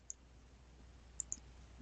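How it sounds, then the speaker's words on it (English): Three crisp computer mouse clicks, close and faint: a single click, then a quick pair about a second later, over quiet room hum. "Click on the Set Sew Order icon located on the top toolbar"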